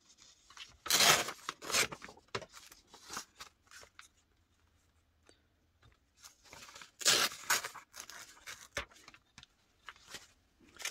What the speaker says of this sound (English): I'll just tear this all the way around.